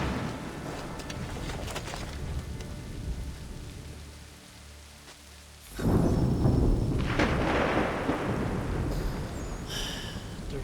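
Rain pouring down in the video game Assassin's Creed 3, a steady hiss that swells abruptly into heavier downpour with a rumble of thunder partway through.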